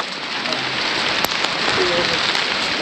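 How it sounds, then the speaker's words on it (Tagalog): Dense, constant hiss of heavy tropical-storm rain pouring on surfaces at a mountain-peak campsite, with wind gusts and a few sharp knocks, steady and close throughout. "Biglang lumakas yung ulan ay yung hangin."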